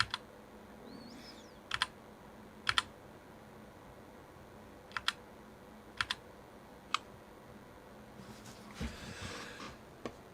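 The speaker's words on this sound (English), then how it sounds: "The keyboard is fully functional, seems to do what it's supposed to do. I don't think it sounds too bad." Scattered, crisp keystrokes on a GMMK 60% keyboard come in short isolated taps and small clusters with pauses between them, closely recorded in a quiet room.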